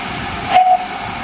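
A steam locomotive about to depart on the West Somerset Railway hisses steadily, with a brief, sharp whistle-like blast of steam in the middle before the hiss settles again.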